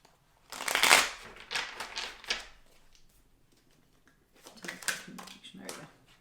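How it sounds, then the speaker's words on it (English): Tarot cards shuffled by hand in two short bursts of crisp riffling and flicking, close and fairly soft, with a quiet pause between them. "Just gonna shuffle these real quick"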